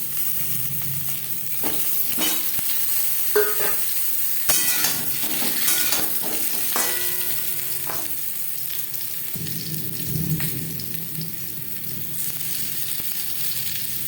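Boiled, peeled potatoes fry in hot mustard oil for a chicken curry, a steady sizzle broken by scraping stirs and light clinks of a spatula against the pan, close and continuous with no talking.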